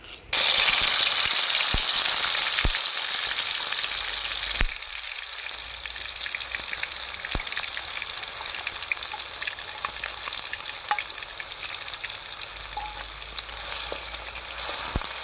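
Onion paste hits hot oil with a loud burst of sizzling that settles into a steady, dense frying hiss, with occasional clinks of a utensil against the pan.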